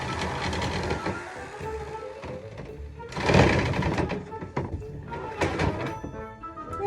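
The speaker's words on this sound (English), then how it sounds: "So I'm gonna get out the jigsaw and cut a little corner." Jigsaw fitted with a metal-cutting blade cutting a small corner off a board in a van kitchen build, a loud, close, rattling buzz with a harsher surge partway through.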